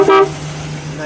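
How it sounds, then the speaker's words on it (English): One short, loud honk from the car horn of a 1964 Ford Galaxie 500XL, a clear tone lasting a fraction of a second, then a low engine idle carries on underneath. "Let's blow that horn for a second."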